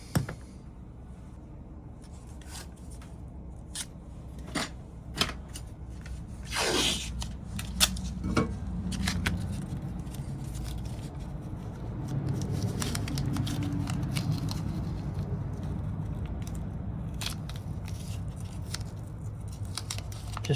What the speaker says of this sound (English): now we're fixing to tape that